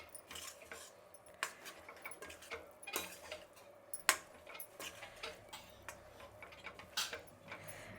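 Cooked rice being stirred and folded together with a spice paste for Karnataka Iyengar-style vangi bath, giving soft, irregular ticking and clinking taps of a utensil against a vessel, quiet and close, with no talking.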